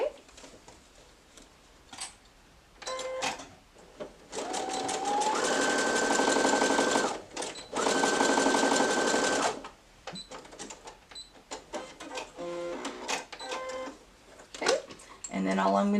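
Sewing machine running a zigzag stitch to finish fabric edges for a headband, in several bursts of whirring stitching separated by pauses, with clicks and handling noises between runs; a voice talks in the quieter gaps.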